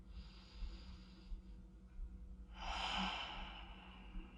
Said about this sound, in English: Enjoy one more breath here.